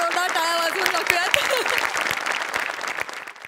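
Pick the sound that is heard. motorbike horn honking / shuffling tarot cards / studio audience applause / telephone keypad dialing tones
studio audience applause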